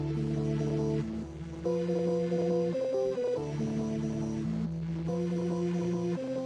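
Synth melody of sustained, stepping tones made in FL Studio, shaped with Shaper Box and bitcrushed, played alone at steady level with a short dip and restart partway through.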